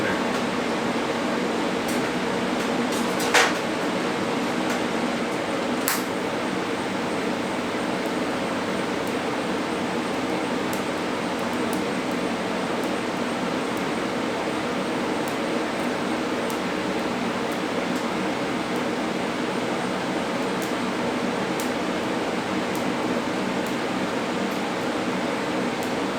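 TIG welding a run, a steady continuous hiss and hum that holds evenly for the whole stretch with a couple of faint clicks, close and alone.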